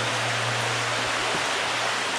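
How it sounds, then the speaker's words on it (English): A creek flows past a roadside home in a constant, full rushing wash of water, close and steady throughout with no voices. "And this creek runs down here."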